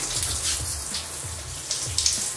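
Running water from a shower or tap, steady and close, splashing as hair is washed. No one speaks.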